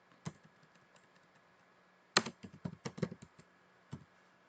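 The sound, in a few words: typing a Linux cat command on a computer keyboard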